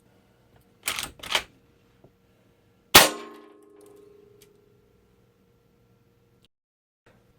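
Hatsan Vectis lever-action PCP air rifle shooting pellets into a pellet trap: a couple of quick mechanical clicks, then one sharp, loud crack with a short ringing tail, followed by quiet.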